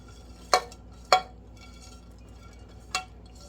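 Bacon gets stirred into spaghetti carbonara in a pan, with three sharp utensil clanks against the pan at a steady pace over a quiet background.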